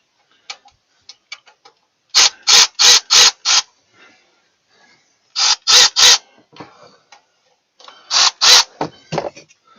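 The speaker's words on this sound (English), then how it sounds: "So now I can get my ratchet, come in here and loosen up the top one." A ratchet clicks in quick bursts of four or five sharp ticks as it loosens the 10mm thermostat housing screws on a 2003 Chevrolet Silverado Z71 5.3L. Softer scattered clicks and fiddling fall between the bursts, close and loud.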